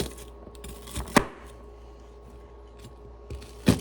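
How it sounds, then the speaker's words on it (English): A knife slices through food on a cutting board for an egg boil, a few distinct chopping knocks spaced apart over a quiet kitchen background. "So you just need to slice these up."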